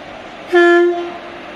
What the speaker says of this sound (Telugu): Vijayawada railway station.